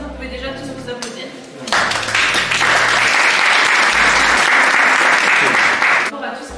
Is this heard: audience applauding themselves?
yes